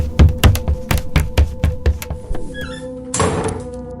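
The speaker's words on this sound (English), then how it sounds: "A third knock echoed through the house." Slow series of heavy knocks on a door, the sound effect in a classic horror audiobook; roughly eight dull thuds in an even rhythm, followed by a brief burst of faint music and a soft whoosh.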